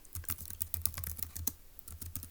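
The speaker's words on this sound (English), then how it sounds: "let's go ahead and type that up in our notes in section E" Rapid, uneven clatter of keys being typed on a computer keyboard while notes are entered, close and clear with no voices.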